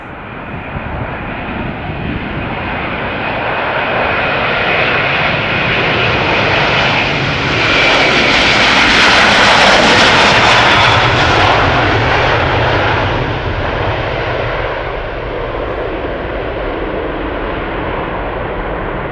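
The jet engines of an 11-year-old KLM Airbus A330-300 roar loudly and close at Schiphol, building to a broad peak mid-way as it passes, then easing to a sustained drone.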